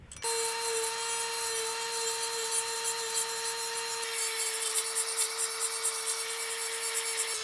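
A chainsaw fitted with an Oregon chain runs loud and close, its steady high-pitched engine whine sustained throughout, growing rougher and grittier in the latter half as the chain works into wood.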